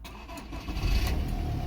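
An Audi car that has sat unused for a long time, its engine cranking and catching close by, with a low rumble that swells and then holds steady at idle.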